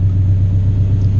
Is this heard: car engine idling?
yes